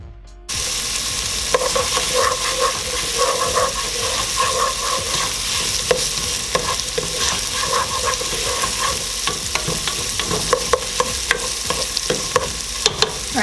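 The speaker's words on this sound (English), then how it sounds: "then we'll cook our onions just for a minute or so" Onions sizzle in a pan over medium heat in a steady, close, fairly loud fry, with scattered clicks and scrapes of stirring throughout and no talking.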